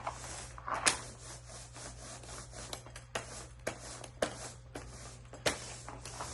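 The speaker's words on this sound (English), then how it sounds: "You can see the sanding pad left some marks." A sanding pad rubs over an epoxy coating in a steady, scratchy rhythm of strokes with occasional sharper scuffs, close by and fairly quiet, with no voices.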